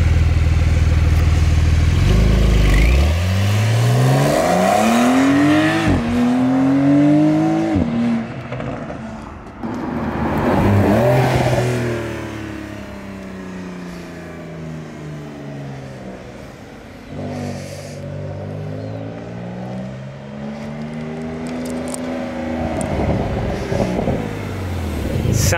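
A Porsche 992 Carrera S engine revs loudly while driving, rising and falling through repeated climbs in pitch, then settling into a steady drone with further surges toward the end.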